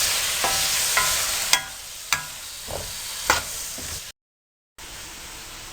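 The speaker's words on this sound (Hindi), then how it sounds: "आलू को अब आपने फ्राई करना है।" Potatoes fry in a pan over medium heat, making a steady bright sizzle broken by several sharp clinks and scrapes of stirring, with a brief dropout of silence before the sizzle resumes.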